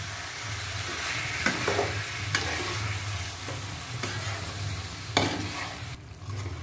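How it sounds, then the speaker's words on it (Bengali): Chicken cooking in whisked sour yogurt sizzles steadily in a pan while a spatula stirs it, with several sharp scrapes and knocks against the vessel, close and continuous. "এই ফেটানো টক দইয়ের সঙ্গে পুরো চিকেনটা আমি খুব ভালো করে কষাতে থাকবো যতক্ষণ না তেল ছাড়ছে"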